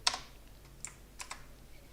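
A few quick keystrokes tap on a computer keyboard, three or four separate clicks spaced out over two seconds, close and quiet with no talking.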